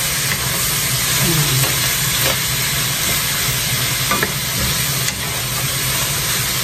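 Udon noodles with tuna sauté in a home kitchen pan in Japan, giving a loud, steady sizzle with occasional stirring scrapes, continuous throughout and without talk.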